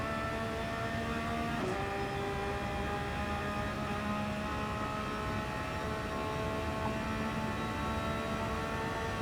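A Porsche Cup race car running flat out down a circuit's back straight during a pro-am race, heard as a loud, continuous, close engine drone with one brief shift early on.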